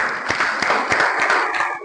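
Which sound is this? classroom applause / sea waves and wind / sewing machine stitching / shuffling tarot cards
classroom applause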